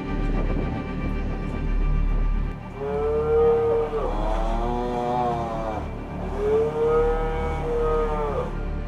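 Dairy cows moo in two long, loud, drawn-out calls over a steady low rumble on a dairy farm.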